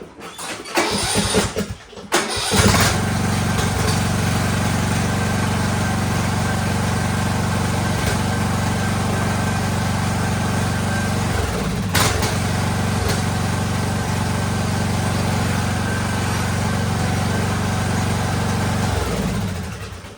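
A free used riding lawn mower cranks with a few rough bursts, then its small engine catches and settles into a steady, loud running drone that holds for the rest of the time, with a brief bump midway.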